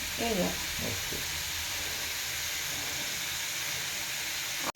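Cumin, turmeric and ginger frying in a pan for aloo paratha, a soft continuous sizzle with a faint stir near the start, close and fairly quiet.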